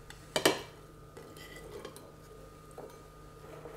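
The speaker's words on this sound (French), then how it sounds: "On mélange paprika et huile. On verse les crevettes." Shrimp tipped into a bowl of paprika and oil land with a couple of sharp clinks against the bowl, followed by quieter scattered taps and soft shuffling.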